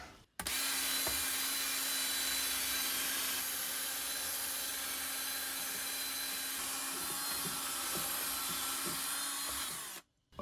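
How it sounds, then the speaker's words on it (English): Stiff brush rubbed steadily over a cast iron Jotul skillet during restoration, a continuous broadband scouring rasp lasting about ten seconds with a faint low hum underneath, close and fairly loud, no talking. "So I'll give it a rub over with this brush again."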